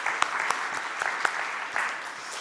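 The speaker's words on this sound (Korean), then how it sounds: "우리 박수 한번 합시다." Church congregation applauding during a Sunday worship service, a steady wash of hand claps with a few sharper accents, moderately loud and close, with faint voices beneath.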